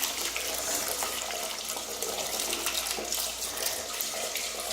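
Tap water runs steadily while a bird cage is washed, a continuous close rushing splash with no talk.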